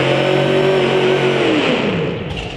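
A powerful pulling-truck engine revs loudly and close by at a truck and tractor pull in Cincinnati, apparently out of gear, its droning pitch sliding downward as the roar eases off.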